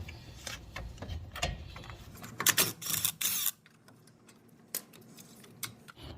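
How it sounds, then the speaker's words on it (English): An impact wrench removes a brake caliper bolt during a Brembo front brake install on a 2009+ Hyundai Genesis Coupe, with a close, loud burst of rattling hammering lasting about a second amid quieter workshop clicks and taps. "We're gonna finish it off with the impact."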